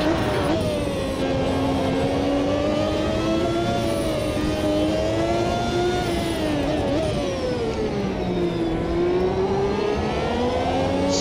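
A 1993 Formula 1 car's engine screams through a lap in Automobilista 2, its loud, continuous whine climbing and falling with gear changes and throttle, with no talking.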